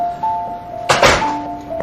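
A door shuts with a single solid thunk in an indoor domestic setting, close and fairly loud, preceded and followed by steady tonal hum in the room.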